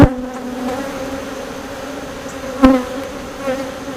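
Honeybees buzz steadily around an open hive during an early July beekeeping inspection, a close continuous drone with a brief sharper knock partway through.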